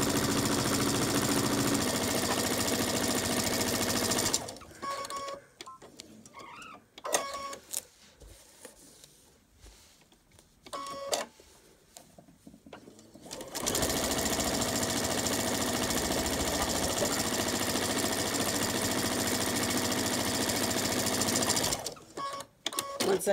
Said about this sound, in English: I come to the sewing machine.